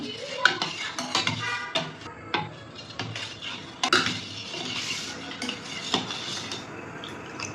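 A spoon scrapes and clinks against a metal pot while kharvas mixture is stirred with cardamom, nutmeg and dry ginger powder; close, irregular taps and scraping strokes with soft sloshing between them.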